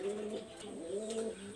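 Golden and high-flyer pigeons coo softly nearby, a few low, rolling coos rising and falling in pitch against faint background noise.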